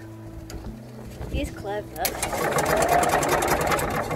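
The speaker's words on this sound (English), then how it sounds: "So then I shorted those two out there, and when you do that, the engine turns over." A vehicle engine cranks over steadily with a rhythmic churning after the starter relay terminals are shorted together, loud and close, with someone speaking just before it starts.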